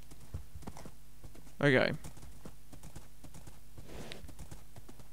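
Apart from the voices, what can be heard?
horse hooves clip-clop in Minecraft video game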